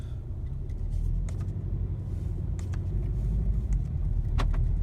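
A 2017 VW Golf R with a DSG gearbox pulls forward from a standstill, its engine a steady low rumble from inside the cabin with a few faint clicks and rattles over it.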